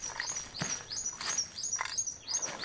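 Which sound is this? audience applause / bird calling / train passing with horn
bird calling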